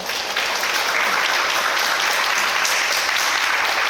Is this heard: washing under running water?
no